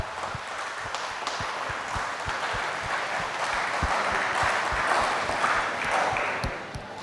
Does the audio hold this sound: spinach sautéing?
no